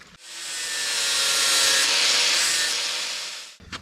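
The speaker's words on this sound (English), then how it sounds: "We'll do that with this grinder here with the sanded disc." An angle grinder fitted with a sanding disc shapes a metal pipe, giving one loud, sustained abrasive hiss that swells in, holds steady for about three seconds and cuts off abruptly.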